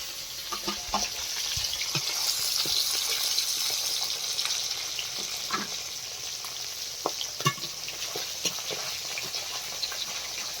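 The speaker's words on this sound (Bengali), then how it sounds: "এবার মাছগুলো ভেজে নেব।" Fish sizzle and crackle steadily in a pan of hot oil in a home kitchen, with scattered pops and spits over a constant hiss and no talking.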